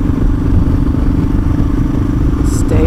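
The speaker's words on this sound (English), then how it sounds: "rev the engine" A motorcycle engine runs loudly and steadily up close as it is revved, with a throbbing mechanical idle and a faint high squeak near the end.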